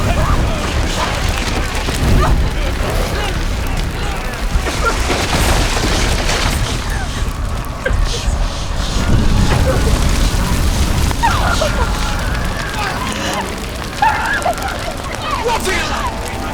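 Roaring fire and deep booms in Hellblade: Senua's Sacrifice as Senua runs through flames, a steady loud crackling roar with repeated heavy thuds, while a voice speaks over it.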